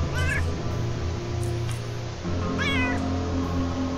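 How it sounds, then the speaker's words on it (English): A cat in the video game Underrail meows loudly and clearly several times, with a short pause between calls, over a steady low game soundtrack. "Lovely little kitty."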